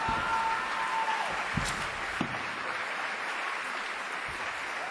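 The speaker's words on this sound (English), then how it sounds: "Give Danny some applause" Audience clapping at a student showcase, a dense steady patter of many hands at moderate distance, holding evenly for several seconds with a couple of sharper claps standing out.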